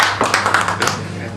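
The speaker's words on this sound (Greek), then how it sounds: "Ένα χειροκρότημα παρακαλώ." A small group claps by hand at a gathering after the 2010 Evia crossing, a close, loud burst of uneven individual claps that thins out toward the end.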